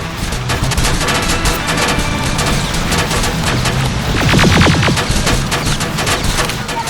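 Dense, continuous gunfire from a firefight in the game Terminator: Resistance Enhanced, overlapping rapid automatic bursts and single shots, loud and chaotic for the whole stretch with no let-up.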